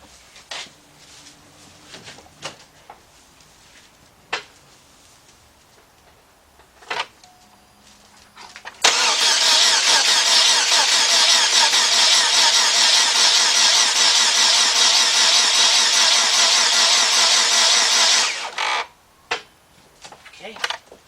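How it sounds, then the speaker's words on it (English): A Chevy Cobalt engine with its coil pack unplugged cranks over steadily for about ten seconds without firing, a loud, even starter whir framed by quieter clicks and handling noises before and after. "Crank it over for a couple seconds to get that oil picked up"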